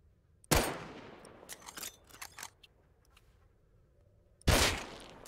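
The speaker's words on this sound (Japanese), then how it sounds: "ビビったけど、これはこの人の銃声か。" Two loud, sharp gunshots several seconds apart from another player in the survival game Rust, with faint clicks and rattles in between, heard alone without talk.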